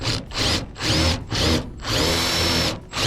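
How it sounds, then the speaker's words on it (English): A power drill with a slightly larger bit whines in several quick, close bursts, grinding briefly against sheet metal as it deburrs holes, between short pauses. "I like to just take a slightly larger bit"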